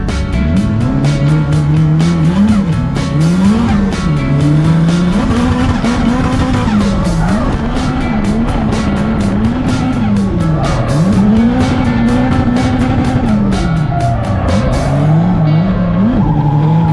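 Car engine revving hard and rising and falling in pitch through gear changes, with tires squealing, during a team driving competition, loud and continuous throughout.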